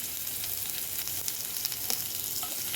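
Onion, ginger, dried red chilli and curry leaves sizzling hard in hot oil after mustard seeds and fenugreek, a dense continuous hiss with occasional small pops and light stirring, close and loud.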